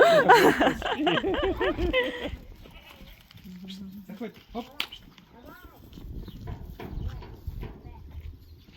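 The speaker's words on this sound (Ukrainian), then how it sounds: "Це саме вредна коза." A goat on a farm bleats loudly a few times near the start, followed by quieter shuffling and scattered livestock sounds with voices nearby.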